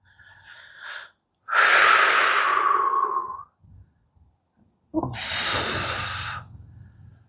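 Heavy, forceful breaths during a core workout: a short huff, then two long loud exhales separated by a quiet pause, close and alone.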